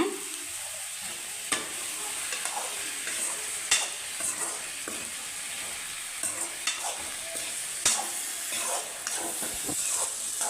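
Continuous sizzle of drumstick pulp frying, with occasional clacks of a utensil stirring in the pan, steady and close, without any voices.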